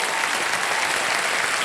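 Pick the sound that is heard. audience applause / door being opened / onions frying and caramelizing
audience applause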